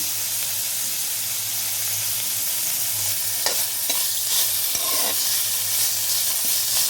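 Fenugreek leaves cooking in oil for chutney, a soft continuous sizzle and hiss with a few spoon scrapes and stirs near the end, close up and without talk.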